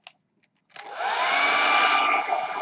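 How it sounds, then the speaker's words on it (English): A hair dryer switches on after a couple of faint clicks and runs with a loud, steady whine and airy roar, close and alone, its pitch dipping slightly near the end. "Yeah, hair dryers are noisy."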